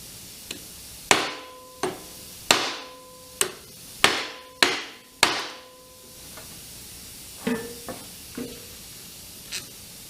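Sharp metal hammer blows driving a nut down onto a shaft on a Cub Cadet, about a dozen irregular ringing strikes, some loud and close, others lighter, with brief metallic ring after each and no talk.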